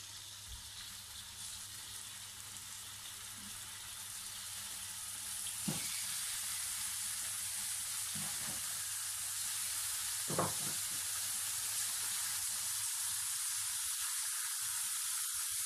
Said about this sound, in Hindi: ऑयल गर्म हो गया, हम इसमें चिकन जो है वो स्ट्रिप्स इसकी डाल देंगे